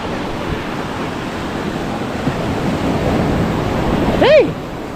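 Large waves breaking at a Philippine shoreline, a continuous broad roar of surf with wind buffeting the microphone, swelling toward the end, with a brief whistle-like shout near the close.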